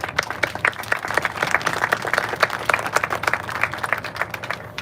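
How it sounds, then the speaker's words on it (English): An outdoor crowd at the grand opening of a highway connector applauds, with many sharp, irregular hand claps at moderate distance continuing steadily without talk. "Let's give a big round of applause."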